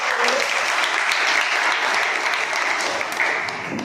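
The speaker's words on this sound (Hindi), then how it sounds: "इनके लिए सभी लोग जोरदार ताली से" Loud, dense applause from a crowd at a Suheldev Bharatiya Samaj Party political gathering, cheering party leaders in a steady, full burst that holds throughout.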